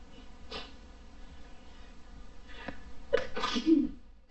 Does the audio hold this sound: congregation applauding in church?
no